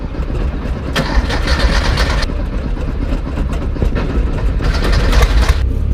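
Porsche 912 engine cranking over and catching after a key turn, a loud, rough mechanical churn with bursts of brighter noise that keeps building toward the end.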